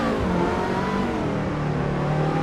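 A car engine in the racing sim Assetto Corsa revs steadily at high pitch, loud and close throughout with a slight rising whine, alone without talk.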